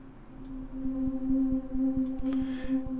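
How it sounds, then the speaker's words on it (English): Very faint synthesized MIDI notes from a VST instrument fire in a steady, even pulse, roughly eight evenly spaced hits under a sustained low tone, with a brief soft hiss near the end. "you should hear the MIDI sound going off"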